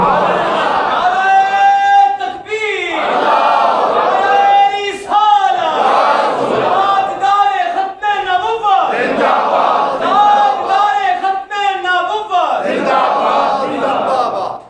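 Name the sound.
crowd chanting a religious slogan in response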